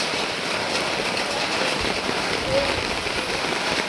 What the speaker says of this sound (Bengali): রাস্তাঘাট ফাঁকা আর সেই লেভেলের বৃষ্টি হচ্ছে